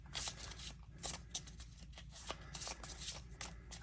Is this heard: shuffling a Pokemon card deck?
yes